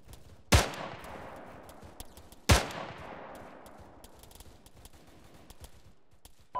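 Two sharp, loud enemy gunshots ring out about two seconds apart, each followed by a decaying echo, with quieter crackling between them.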